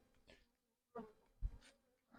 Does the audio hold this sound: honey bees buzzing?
yes